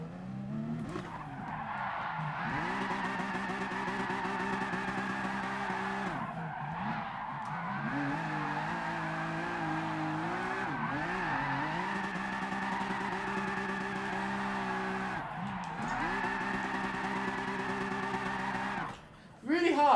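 A Honda NSX in GT Sport spins through donuts, its tires squealing in long, wavering, pitch-bending howls that break off briefly and restart, with engine revving underneath and occasional speech.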